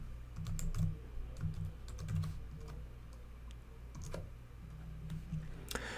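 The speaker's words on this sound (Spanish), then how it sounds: "voy a regresar a mi pantalla en Inventory Control y voy a teclear ese, número RCT2080" Receipt number typed on a computer keyboard, quick bursts of light key clicks with short pauses between them, near and quiet over a low steady hum, without speech.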